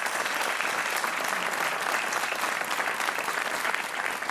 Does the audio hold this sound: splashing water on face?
no